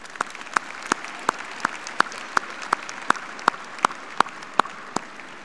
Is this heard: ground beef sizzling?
no